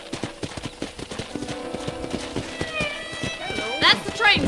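A horse gallops in Red Dead Redemption, a steady clip-clop of hooves under talk, followed by a high whinny near the end.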